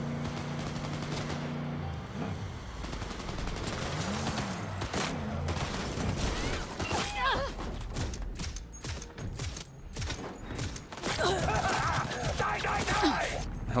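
Pistol shots and other gunfire in Cyberpunk 2077 crackle in repeated bursts through a busy, dense mix of game sounds, with a voice groaning or gasping in places.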